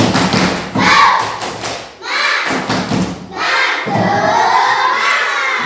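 Elementary schoolchildren in a fourth-grade classroom perform a loud rhythmic spirit clap, with sharp clustered claps and thumps mixed with shouting young voices throughout.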